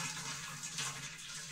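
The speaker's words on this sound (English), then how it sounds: "I'm going to pour some boiling water" Boiling water splashes from a kettle into a dish in a home kitchen, a brief, steady gurgling pour at moderate volume with no talking.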